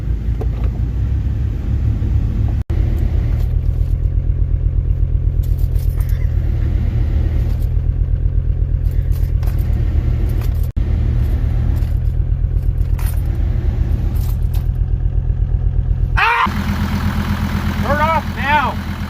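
A diesel Mercedes engine keeps running after being switched off, its steady low idling rumble loud and continuous throughout, with a brief change near the end and some talk over it.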